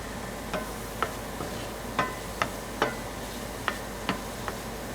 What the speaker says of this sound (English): Allow the mushrooms to cook for about 3 to 5 minutes,